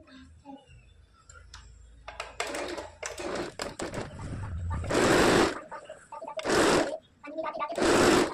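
A sewing machine stitches the hem of a katori blouse in several short bursts of rapid mechanical whirring, separated by pauses where someone talks.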